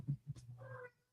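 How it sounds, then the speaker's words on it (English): A cat meows at a door, wanting to be let in: a couple of short low chirps rising into one drawn-out tonal meow, close and fairly quiet. "This cat wants in now."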